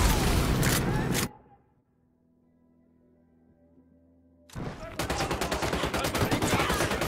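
A sharp sniper rifle shot and its echo crack loudly in the Ghost Recon Wildlands video game, followed by a quiet lull before dense, loud gunfire bursts resume.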